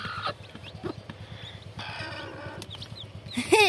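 Chicks peep with high chirps near the end, while a hen or rooster clucks in a rhythmic pulse throughout in a backyard poultry setting.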